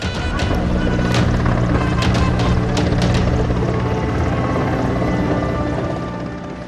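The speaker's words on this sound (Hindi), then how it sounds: "फूलों की बारिश करते हेलीकॉप्टर" An Indian Air Force helicopter's rotor thumps loudly and continuously overhead while showering flowers, a dense whirring roar that fades slightly at the end.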